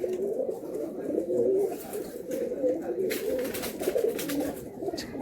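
Pigeons of Andhra and Madrasi breeds at a pigeon sale in Naihati, cooing softly and steadily through the clip, with people talking over them close by.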